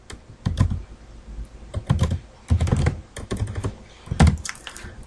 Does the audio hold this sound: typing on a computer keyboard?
yes